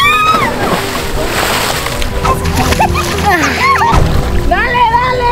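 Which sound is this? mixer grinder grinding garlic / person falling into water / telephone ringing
person falling into water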